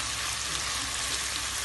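Onions fry in a pan with a steady, close sizzle, a continuous even hiss with no talking over it.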